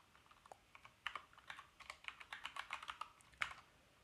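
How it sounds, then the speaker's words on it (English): Typing on a computer keyboard, a run of quick, irregular key clicks that bunch together and then pause, close and fairly quiet, with no voice. "So type this into R, 1 minus P binom"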